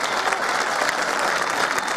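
Loud, close applause from an audience at a Saint John's Day festival concert by a string music school, dense continuous clapping with no pauses.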